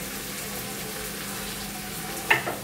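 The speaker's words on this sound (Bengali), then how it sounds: "কিছুক্ষণ আদা রসুনটা দিয়ে জাস্ট একটু কষে নিলাম।" Ginger and garlic fry with potato, onion and tomato in a pan, giving a steady low sizzle throughout and one brief utensil clink near the end. No one speaks.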